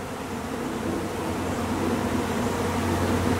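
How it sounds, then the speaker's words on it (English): Honey bees from a swarm that moved into a new hive hum in a dense, steady, close buzz with fanning, with no talk. "there was already a loud, pretty good amount of bees sound in there."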